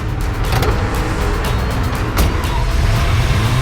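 Car engine running steadily and loud throughout, with a brief louder surge near the middle as the vehicle pulls away; no talk over it.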